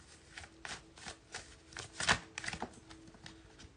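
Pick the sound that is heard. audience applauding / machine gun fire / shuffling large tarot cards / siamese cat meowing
shuffling large tarot cards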